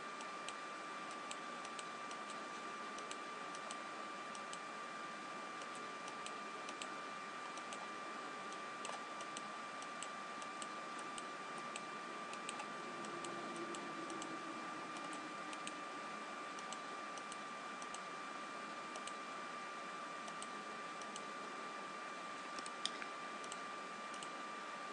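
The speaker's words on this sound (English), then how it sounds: "I like to click, small movement, click, small movement, click, small movement" A mouse clicks over and over while smudging in a digital drawing program, giving faint, steady ticks that repeat for a long stretch over a quiet electronic hum.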